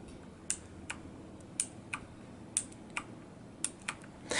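Razer BlackWidow 2014 mechanical keyboard with green Razer switches, a few isolated sharp key clicks spaced irregularly, close and fairly quiet against a soft background hiss.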